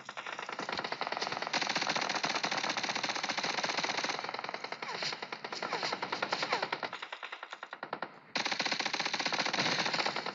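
MP5K submachine gun fired at a vehicle in PUBG Mobile, long rapid bursts of game gunfire in sustained rattling streams broken by brief pauses, loud and close with no talk.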